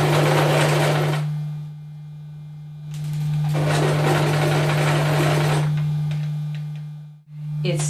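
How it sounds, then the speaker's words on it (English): A sewing machine stitching a lace tanga panty runs in two long bursts separated by a pause, loud and near, over a constant low electrical hum, with no talking. "I'm ready to sew it in, and then I'm ready to wear it."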